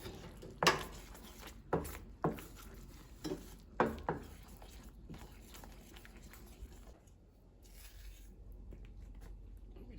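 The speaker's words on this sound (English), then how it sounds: "I'm just going to stir till the butter is fully melted" A spoon stirs butter as it melts in a pan for a sweet and spicy shrimp sauce, with a handful of sharp clinks against the pan early on, then a quieter low background.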